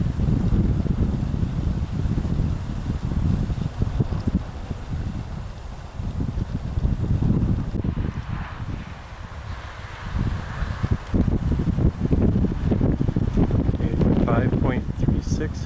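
Gusty wind buffeting the microphone beside a vertical axis wind turbine, a loud rumbling roar that surges and eases over several seconds.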